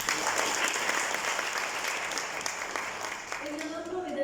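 Dense audience applause at a hair-care product launch for Absolute Repair Molecular, sustained clapping from a large room, with a voice starting to speak over it near the end.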